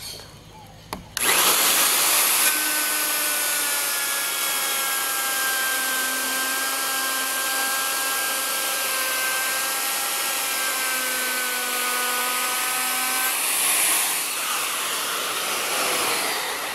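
A Nakasaki column router cutting wood with a jig: a sharp click, then a loud high-pitched motor whine holding steady for about twelve seconds as the bit cuts, easing at the end, with no talking.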